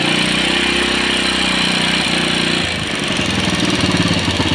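A small engine idles close by with a steady rumble, then is given a little throttle and the pitch rises and the throbbing firms up while the oil pump flow is checked.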